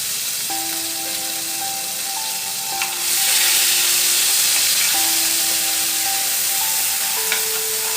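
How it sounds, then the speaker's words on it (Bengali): Ground onion paste is fried in a pan for a pomfret fish curry, giving a steady frying hiss that swells louder after about three seconds, with tonal background music playing underneath. "এবার পেঁয়াজটাকে আমরা একটু কষবো।"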